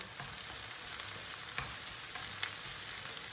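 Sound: peppers sizzling as they fry in a pan with onions

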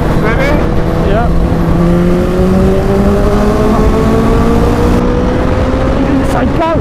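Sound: car engine revving to 5,000 rpm in 5th gear

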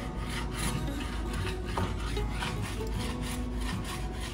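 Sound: hand cutting wood down to a scribed line

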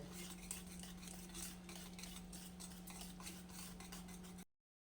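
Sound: whisking cabbage and egg mixture

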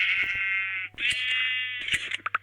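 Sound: sheep bleating when hit, from a video game

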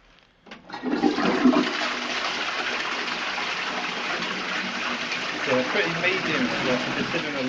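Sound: toilet flushing in public toilets

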